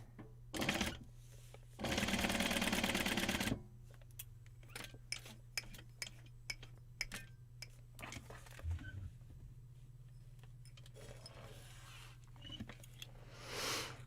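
A sewing machine stitches a paper-pieced quilt block for a bookcase quilt in two loud runs, one brief and one longer, followed by scattered small clicks and taps of handling.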